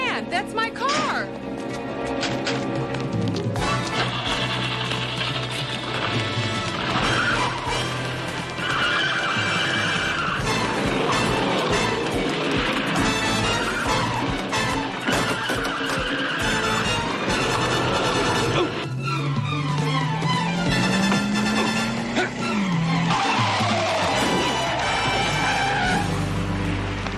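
A car speeds away with tires skidding and screeching amid a dramatic TV scene score, a rising squeal near the end over music, and voices and other effects mixed in.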